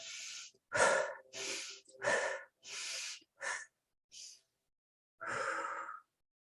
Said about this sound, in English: if you want to amp up your energy, you breathe in